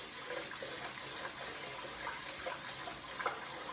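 Rice being rinsed in water, refilled and swished by hand, giving a continuous close wash of running, sloshing water with faint scattered splashes and no voices.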